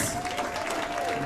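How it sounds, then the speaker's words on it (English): A comedy club audience gives the comedians a round of applause, a dense, even clatter of clapping that fills the short moment without a break. "Let's give it a round of applause for all your comedians"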